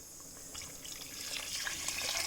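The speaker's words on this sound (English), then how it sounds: "Now add sufficient water and let it boil." Water pours steadily into a cooking pot, a broad splashing hiss that grows slightly louder and fuller over a couple of seconds, with no voices.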